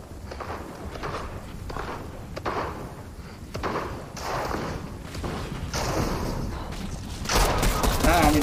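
Video game firefight with repeated gunshots and bursts of fire, fairly loud and continuous, mixed with movement noise and a voice talking over the action.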